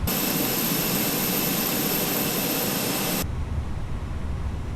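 Fenix A320 jet airliner engine start in Microsoft Flight Simulator: a loud, steady broadband whine with a high tonal hiss cuts off abruptly, leaving a lower rumbling engine hum.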